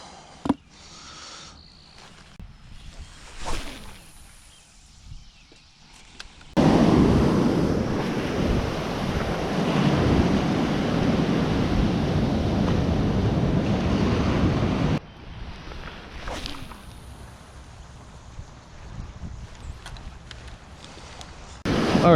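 Ocean surf waves breaking on a beach, a loud rushing wash of water and wind buffeting the microphone in the middle, with quieter wind and surf before and after.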